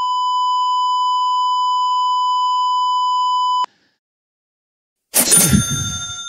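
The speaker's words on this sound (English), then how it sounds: "The bleep could really be used to great effect." A button fires a censor bleep, a loud steady pure tone held for about three and a half seconds that cuts off abruptly, followed by silence and then a short burst of clattering noise.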